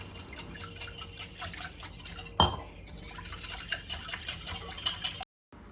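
Water and a little vegetable oil are whisked in a bowl for a dough, giving a rapid, even clinking and tapping with one louder knock partway through before the sound cuts to silence.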